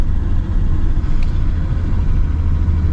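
A BMW E12 528i with a 177 hp engine drives along, a steady low engine rumble and road noise filling the cabin, loud and continuous with no talking.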